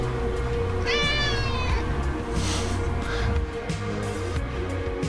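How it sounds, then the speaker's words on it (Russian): A cat meows in a short rising-falling call near the start, followed by a brief scratchy rustle, over a steady low indoor hum. "Мяу."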